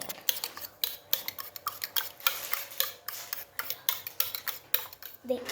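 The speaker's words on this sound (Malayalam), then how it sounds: "മിക്സ് ചെയ്ത് നല്ലപോലെ ഇങ്ങനെ മിക്സ് ചെയ്ത് കൊടുക്കണം" Beaten eggs for an omelette are mixed briskly in a bowl with a utensil, producing rapid, rhythmic clinking and scraping strokes, close and fairly loud throughout with no voices.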